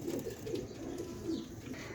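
A Teddy pigeon at a home loft gives soft, continuous cooing, murmuring close by at low volume for the whole stretch.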